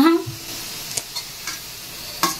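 Potato fry sizzles in a pan as it is stirred, a steady close hiss with occasional scraping taps from the spoon.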